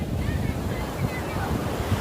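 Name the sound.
ocean waves at a beach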